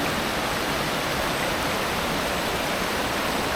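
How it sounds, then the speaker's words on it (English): A loud, steady roar of rushing water pours from the second waterfall near Mindo, a dense unbroken wash filling the whole moment without any pause or talk. "Okay, so I'm at the second waterfall."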